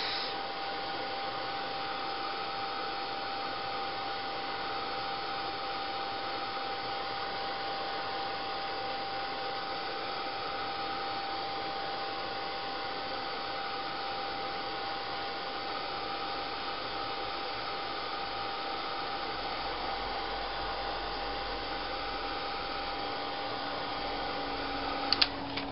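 A hair dryer blows steadily to dry colour mixed with face cream, a continuous, even whir and hiss lasting about 25 seconds without pause and ending with a brief click.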